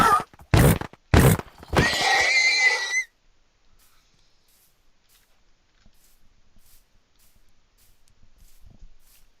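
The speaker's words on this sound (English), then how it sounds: "I feel so bad every single time I kill a horse in Minecraft" A horse killed in Minecraft: two sharp hurt grunts, then a long descending whinny as it dies, followed by faint scattered game noises.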